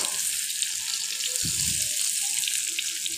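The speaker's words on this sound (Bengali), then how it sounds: "এখন আমি এতে দিয়ে দিচ্ছি কিছুটা কোচানো পেঁয়াজ" Sliced onion hits hot oil already used for frying eggs and potatoes, giving a steady, close sizzle throughout with one short low thump partway in.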